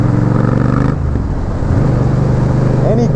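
A Honda Rebel 1100 motorcycle running without a muffler gives off a loud, constant rumbling engine drone that dips briefly in pitch partway through, with no talking over it.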